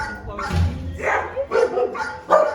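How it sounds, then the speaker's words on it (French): Small dog at an animal shelter gives a few short, close yips and barks with a growly edge, in uneven bursts across a couple of seconds. "Le petit qui me grogne"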